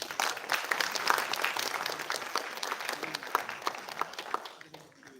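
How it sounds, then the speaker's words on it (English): Audience at a language day event at an army management institute gives a round of applause: dense, lively clapping at moderate distance that holds steady, then tapers off near the end, with faint voices underneath. "May we have a round of applause, please?"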